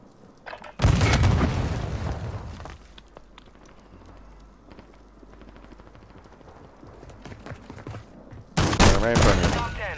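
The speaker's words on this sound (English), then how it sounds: "he's on the roof shooting me through the fucking ceiling" Gunfire rattles through Call of Duty: Modern Warfare II as a loud burst of rapid automatic shots, then quieter scattered game noise and voices, before another heavy volley of shots near the end.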